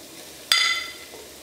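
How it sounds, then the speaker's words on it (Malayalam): Cabbage dropped into a pan of hot frying onions for chilli parotta, giving a sudden bright sizzle that flares up and then fades away over a second against a quiet background. "ഇതിലേക്ക് ക്യാബേജ് ചേർക്കാം"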